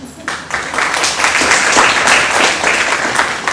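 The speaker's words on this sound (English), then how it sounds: "Let's give him a round of applause." A crowd gives a round of applause for Joe Crew at an Ebola information talk, loud dense clapping that starts abruptly and holds strong for several seconds, with voices mixed in beneath.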